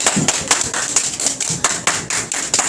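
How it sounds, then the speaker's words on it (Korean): A classroom of Korean schoolchildren claps together, a brisk run of close, sharp handclaps with an uneven rhythm lasting a couple of seconds, with no voices heard. "박수다."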